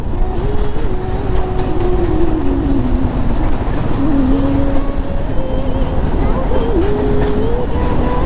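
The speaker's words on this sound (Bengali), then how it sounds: "হয়তো এটা মালগাড়ি, কিন্তু ট্রেন তো।" A freight train passing near Farakka produces a loud, continuous close-up rumble with drawn-out whining metallic tones running through it, steady from start to end.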